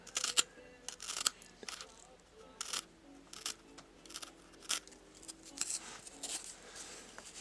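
A knife carves a wooden feather in short, irregular cutting strokes, each a crisp close scrape or snick, separated by brief pauses.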